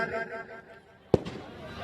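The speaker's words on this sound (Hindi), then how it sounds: "पटाखों की लहर" A firecracker goes off at an outdoor cricket match, a single sharp bang standing out over steady crowd and commentary noise.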